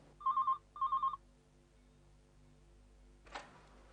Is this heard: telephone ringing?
yes